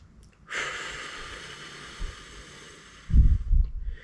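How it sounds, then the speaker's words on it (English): Close breathing where the exhale outlasts the inhale: a long, airy hiss of breath lasting a couple of seconds, then a shorter, lower breath through nose and mouth, with no talking. "make your exhale longer than your inhale"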